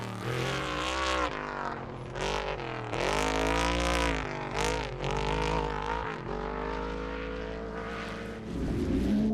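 A race car at the St George 399 off-road race is driven flat out over its final laps, its engine howling loud and continuous with shifting pitch and brief dips, no voices.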